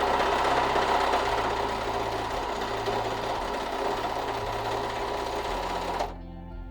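A Brother 2340CV coverstitch sewing machine runs a basic stitch in a steady, loud, close mechanical whir with a rapid rhythmic chatter, holding constant for about six seconds before cutting off to a low hum.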